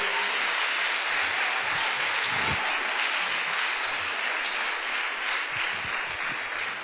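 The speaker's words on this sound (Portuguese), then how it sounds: "Uma salva de palmas para o Senhor." Congregation at a revival prayer service applauding, a dense, even wash of clapping that holds steady throughout with no talk over it.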